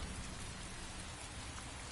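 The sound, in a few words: rain falling in video game Heavy Rain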